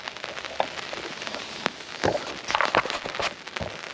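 Rain falling straight down through a forest canopy onto a woodland bushcraft camp, a steady close hiss of drops with scattered louder pattering hits and a few sharper splashes, no voices.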